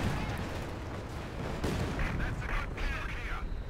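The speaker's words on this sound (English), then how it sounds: "But light artillery barrage incoming." A light artillery barrage lands in Company of Heroes 2, with repeated booming shell impacts and crackling gunfire in a dense, loud battlefield mix and some voice-like sounds mixed in.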